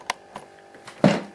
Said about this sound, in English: That noise is the chair, by the way, that I'm sitting on